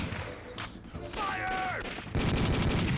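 Shooting in the Time Crisis arcade game, dense bursts of gunfire and crashing impacts that turn heavier and more continuous toward the end, with a voice briefly heard among the shots.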